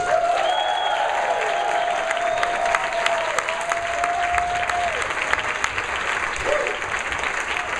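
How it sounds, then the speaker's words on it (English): A crowd at a Miami party applauds and cheers a speaker being welcomed, with dense sustained clapping and a few whoops. A tonal whistle or horn sounds over the clapping. "that basically means that a lot of excitement, a lot of applause"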